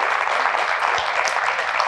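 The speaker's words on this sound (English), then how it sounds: "round of applause for that" A studio audience at a TV talk segment gives a dense, steady round of applause that fills the whole moment evenly, loud and close, with no clear voices on top.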